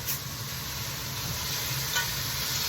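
Meatballs sizzle steadily in a hot pan, a continuous close hiss that holds even throughout with no speech.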